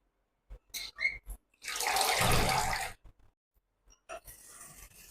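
Water pours and drains off grated potato shreds in a kitchen, a sustained splashing rush bracketed by short clinks and drips before and after, close and fairly quiet.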